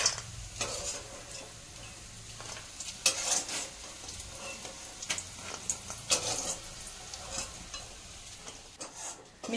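Soybean chunks frying and being stirred in a pan while preparing kabuli chana ghugni, with steady low sizzling broken by sharp scraping stirs and clinks of the spatula at irregular intervals, close by and without talk.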